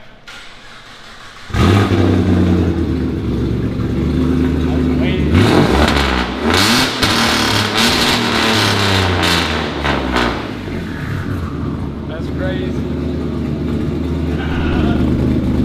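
A turbocharged 3.7-liter V6 car on E85 fuel fires up on a dyno and runs hard. The engine sweeps up through loud revving pulls and settles back, close and powerful, with brief speech between the runs.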